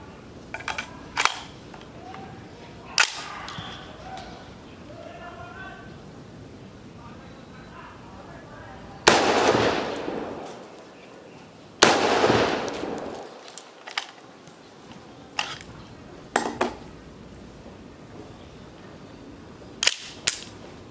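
Armour-piercing green tip rounds fired at a Level 4 armour plate, with sharp single reports spread across the stretch, two louder, longer blasts near the middle and several smaller cracks, with talk in between.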